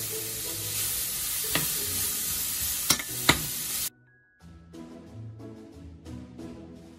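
Onions fry in butter in a pan, hissing loudly at first, then cutting to quieter stirring with intermittent scrapes and a softer sizzle up close.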